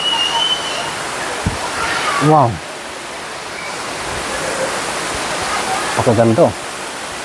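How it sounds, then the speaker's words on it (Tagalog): Waterfall noise from Dream Falls (Aliw Falls) fills the scene as a steady broadband rush, with brief voices and a couple of short knocks over the constant roar. "naririnig na natin yung ingay o yung bagsak ng tubig dito mismo sa Dream Falls"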